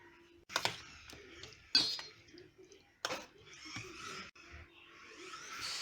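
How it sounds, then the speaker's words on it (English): Chicken pieces being stirred in a bowl with lemon, turmeric and chili powder, giving several sharp clinks and scrapes of a spoon against the dish in irregular bursts, close and fairly quiet. "half spoon of turmeric powder and half spoon of chili powder. So we are going to mix this well."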